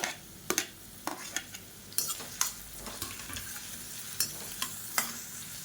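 Chopped onion, slit green chilies and minced garlic frying in hot oil, a low sizzle under frequent sharp clinks and scrapes of a spoon stirring against the pan, close by with no speech.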